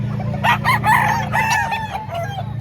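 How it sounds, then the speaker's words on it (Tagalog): Chickens crow and cluck close by in a burst of overlapping calls over a steady low hum, at an early-morning poultry market in Lipa, Batangas. "Murang manok ni Bossing."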